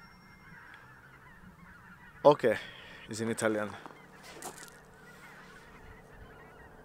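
Geese honking at a wildlife site in Vallevecchia, Italy, a short burst of loud calls from a group nearby, then quieter outdoor ambience, with a person speaking briefly over it.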